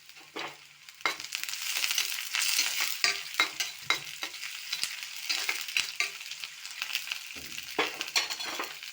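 Onion fries in a pan as coriander, mint and curry leaves are tossed in, bursting into a bright crackling sizzle with repeated stirring scrapes and clinks.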